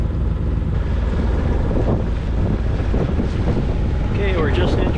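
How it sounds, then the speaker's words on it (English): Strong wind buffets the microphone on a sailboat crossing the Strait of Georgia near the Comox Sandbar, a steady loud roar with water rushing beneath it and no talk. "The wind is pretty piped up out there."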